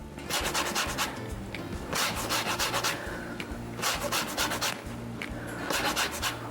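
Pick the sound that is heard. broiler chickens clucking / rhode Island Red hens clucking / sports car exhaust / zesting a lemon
zesting a lemon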